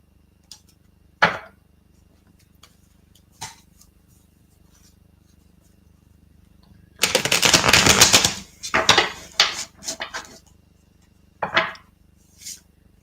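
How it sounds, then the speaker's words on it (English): Tarot cards being shuffled: scattered sharp card snaps, then a dense riffling burst of about two seconds, followed by several shorter riffles and taps, close and crisp in a quiet room. "while I'm shuffling the cards, asking the question"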